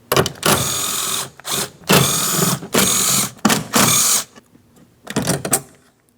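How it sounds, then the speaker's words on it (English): A socket wrench loosening 10mm mounting nuts on a car door panel of a 2003-2007 Cadillac CTS, heard as close bursts of ratcheting clicks separated by short pauses. "We'll use a 10mm for each mounting nut, so we can slide this panel out of the way."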